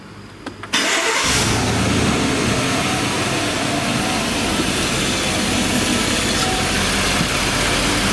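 A GM car's engine cranks and catches after a quiet start, then settles into a steady, even idle that continues close by without speech.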